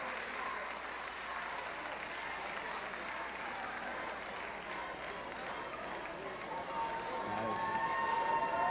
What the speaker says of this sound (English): One more round of applause for all of our performers, ladies and gentlemen.